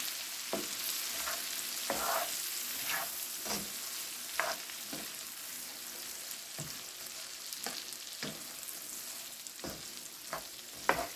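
Peppers and onions cooking in a pan until softened, a steady close sizzle running throughout with repeated sharp scrapes and clicks of stirring spaced every second or so, no voices.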